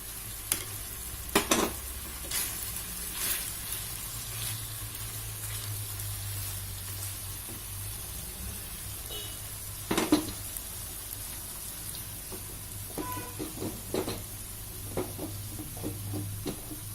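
Chicken curry with potatoes sizzling in a pan as it is stirred, a constant low frying hiss broken by scattered sharp scrapes and clinks of the spoon against the pan, with no voices.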